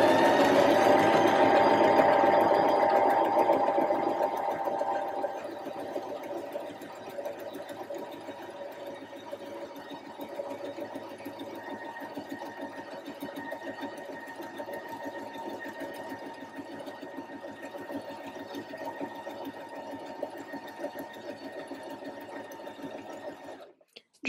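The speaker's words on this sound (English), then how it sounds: "Just make sure that the machine is on a straight stitch." Sewing machine running a straight stitch along the top edge of a reversible dress, a steady, close mechanical whir that is loudest at the start, then continues evenly at a lower level before stopping abruptly.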